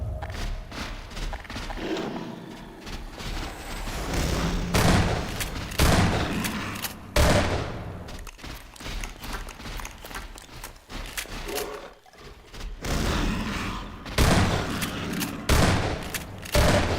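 Pulse rifle secondary fire in Half-Life 2, a series of loud heavy thumping bursts and gunfire repeating over about seventeen seconds amid dense combat noise, without speech.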